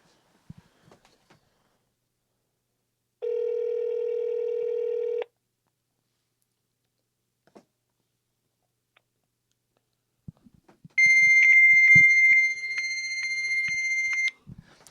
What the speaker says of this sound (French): Pas de ligne ou la personne a raccroché ou c'est un fax.